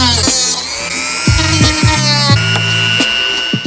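Dremel rotary tool grinding on a titanium Supra exhaust, a steady high-pitched whine throughout with repeated short bursts of grinding contact, close and loud, no talk.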